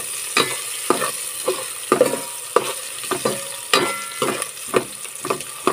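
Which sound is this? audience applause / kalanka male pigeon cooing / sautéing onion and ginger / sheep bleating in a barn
sautéing onion and ginger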